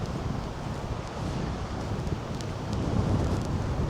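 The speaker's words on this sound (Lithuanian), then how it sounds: "vėjas šiandien tai gan didelis" Strong wind outdoors in Voerde rumbles steadily against the microphone, a dense, low, gusting roar that swells slightly toward the end.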